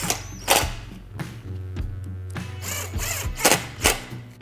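A power drill drives a screw and snugs it up while a Rhino-Rack crossbar is fitted to an early Ford Bronco, giving short bursts of motor whir separated by sharp clicks and knocks, close and fairly loud, with no talking.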